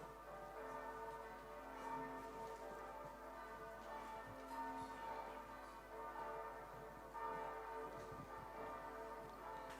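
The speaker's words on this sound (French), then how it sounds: "Mais monsieur, ce sont les cloches de Noël." Christmas Eve church bells ring steadily throughout, a dense, sustained peal of overlapping tones with a constant background wash, loud and continuous with no speech over them.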